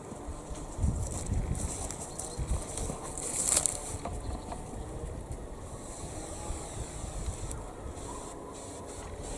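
Gusty wind buffets the microphone, producing loud rumbling low-end thumps and rushing noise that surge and fade, with no talking.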